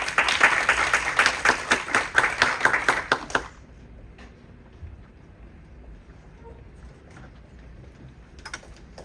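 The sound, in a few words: audience applause for Professor Yu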